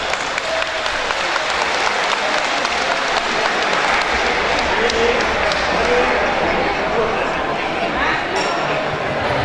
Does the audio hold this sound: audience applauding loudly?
yes